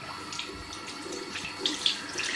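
Running tap water splashes steadily into a sink while a face is rinsed after a night-time skincare routine, a close, continuous wash of water lasting a couple of seconds.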